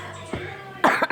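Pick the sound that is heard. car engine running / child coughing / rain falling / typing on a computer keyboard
child coughing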